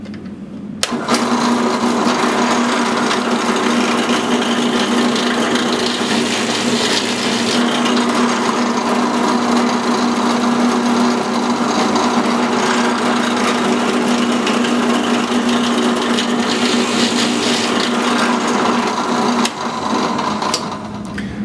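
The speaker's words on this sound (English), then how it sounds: "over here at the drill press, I'm just going to put 2 holes diagonal from each other on here" Drill press boring holes in a wooden board with a Forstner bit, a loud steady motor whine with a constant hum running for about twenty seconds before winding down, close up with no talking.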